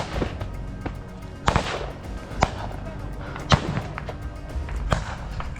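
Grenade blasts in a trench during fighting: several sharp, loud bangs about a second apart stand out over rumbling background noise, with shouting heard in between.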